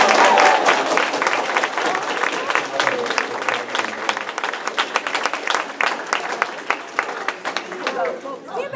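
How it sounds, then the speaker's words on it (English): Audience at an academy talk breaks into loud, sustained applause with a few whoops, dense clapping continuing for several seconds and gradually thinning out. "I'm hoping they're going to applaud now"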